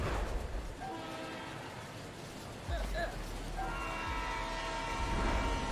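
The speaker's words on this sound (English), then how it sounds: "I mean, we are on top of a moving train." A moving train in the video game Oddworld: Soulstorm rumbles loudly and continuously, with low rolling noise, a sharp thud midway and tonal horn-like whines over the steady rattle.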